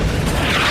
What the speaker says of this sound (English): he lights it and starts smoking before blowing up the truck,